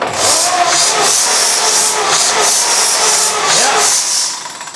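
A 1923 Cadillac Model 61 tow car's flathead V8 cranks over on its starter, a loud, even, rhythmic chugging of repeated pulses that runs steadily, then trails off at the end.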